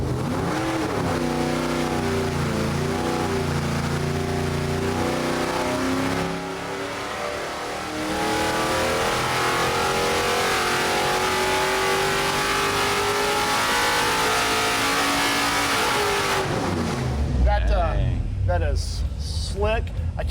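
A big rebuilt Hemi V8 engine, once burned out and from a junkyard, roars and revs hard under load for a long stretch, dips briefly, then climbs again before winding down.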